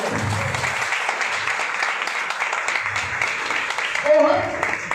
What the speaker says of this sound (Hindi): इन सब के लिए आप एक बार जोर से तालियां बजाएं।